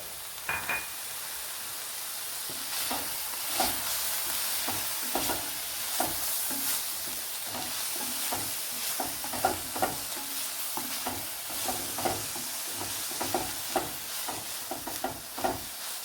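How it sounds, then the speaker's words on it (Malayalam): Sliced onions sautéing with salt in a pan give a steady, soft sizzle, broken by frequent scraping stirs of a spatula at an irregular rhythm. Close and moderately quiet, with no talking. "ഉപ്പും ചേർത്ത് കൊടുത്ത് സവാള ഒന്ന് നല്ലതുപോലെ വഴറ്റിയെടുക്കണം"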